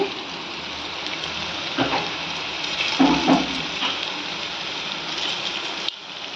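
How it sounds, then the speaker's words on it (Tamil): Mutton kola urundai balls sizzling in hot oil on a low flame, a steady close crackle and hiss with a few louder spattering pops partway through. "இது மாதிரி வறுத்து போடுவோம்."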